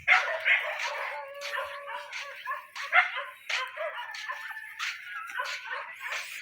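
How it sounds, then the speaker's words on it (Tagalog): Several dogs bark, yip and whimper outdoors in a rural setting, a busy overlapping chorus of high yelps and barks at moderate distance, continuing with no pause. "Ang daming aso."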